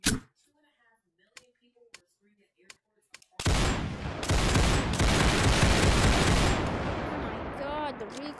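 A heavy-recoil gun in a video game opens up after a few scattered clicks and soft sounds, unleashing a dense, loud, sustained roar of rapid fire that holds for several seconds before tapering with ringing tails.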